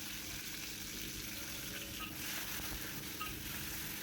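Aromatic spices dry-roast in a pan for lontong opor, giving a soft steady crackling sizzle with faint stirring scrapes, close and quiet, with no talk.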